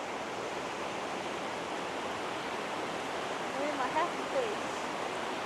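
Steady rushing water from Thompson Creek, a mountain forest creek in the Jocassee Gorges, fills the air with a constant hiss, and faint bird chirps come through briefly.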